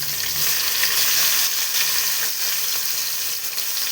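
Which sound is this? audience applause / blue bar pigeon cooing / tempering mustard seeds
tempering mustard seeds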